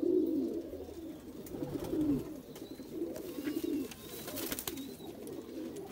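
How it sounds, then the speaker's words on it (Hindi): Kasuri pigeons coo in low, throaty repeated phrases close by, with a few soft rustles and faint chirps in the background. "ये एक और पेयर है रामपुरियों के अंदर क्रॉस कराए हुए कसूरी कबूतर आ गई"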